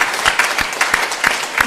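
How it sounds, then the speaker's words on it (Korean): A church congregation claps in encouragement during a Sunday worship service, a loud close steady patter of many hands with a light rhythmic pulse. "한 번도 참석 못하신 분들을 위해서 우리가 격려의 박수를 한번 해드리겠습니다."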